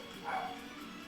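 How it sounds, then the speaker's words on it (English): A single faint, distant dog bark rises briefly over steady background noise. "my dogs are barking"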